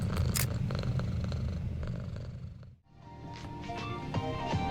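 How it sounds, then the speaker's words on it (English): A cat purrs close and loud in a continuous rumbling drone, which briefly dips and fades before resuming just as strongly. "I'm actually finding the purring really distracting"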